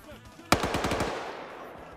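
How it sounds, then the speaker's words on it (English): A rapid burst of automatic gunfire in a video game, about six or seven quick shots, then a trailing echo. "Now the gunfire begins."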